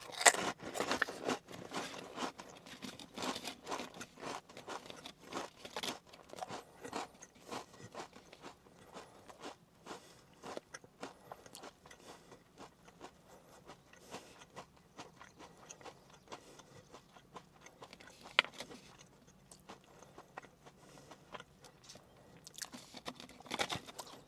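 Someone eats Pringles Lite Grilled Beer Brat chips, with sharp irregular crunches and crackly chewing close to the mic over roughly twenty-four seconds and no talking.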